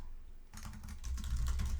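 Rapid clicking of a computer keyboard being typed on, starting after a brief quiet moment and continuing as a busy, close, steady patter of keystrokes with no talking.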